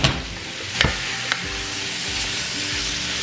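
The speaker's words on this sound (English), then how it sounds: "Get your nice wooden spoon, stir that around, and you're just getting the roux all mixed into these vegetables." Wooden spoon stirring roux into vegetables in a pot for gluten-free broccoli cheese soup, with a gentle continuous sizzle and a couple of distinct scraping knocks against the pot.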